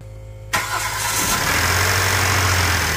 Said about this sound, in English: So now it's time to start the car.